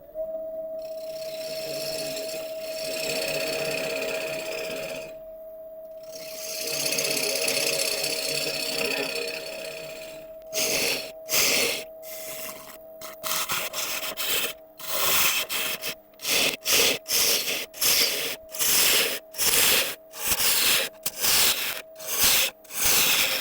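A wood lathe spins at about 1000 RPM while a tool flattens a turned surface, first a steady whirring hum with scraping, then rapid repeated rasping cuts in short bursts.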